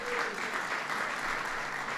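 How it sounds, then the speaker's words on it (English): An audience breaks into sustained applause for Theresa Villiers at a St. Patrick's Day celebration, a full, even roar of clapping filling the room throughout. "Please give Theresa a big round of applause."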